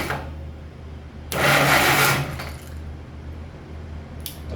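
A Packard six-cylinder engine is cranked over by its starter on a 12-volt battery, giving a single whirring, rattling burst lasting just over a second, close and fairly loud, before it falls back to a low background hum.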